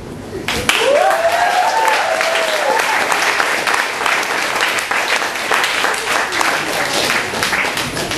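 A university poetry slam audience breaks into sustained applause after a poem is read. The clapping is loud and dense, running steadily throughout, with a brief whoop or cheer rising above it near the start.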